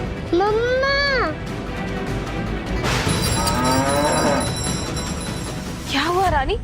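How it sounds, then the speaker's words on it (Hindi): A cow moos repeatedly in a rural household setting, with long wavering calls near the start, middle and end, loud and close over steady background noise. "क्या हुआ रानी, तुम इतना क्यों रंभा रही हो?"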